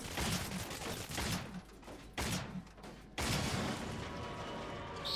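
Sustained bursts of rapid video game gunfire, loud and dense, broken by brief pauses before the shooting resumes.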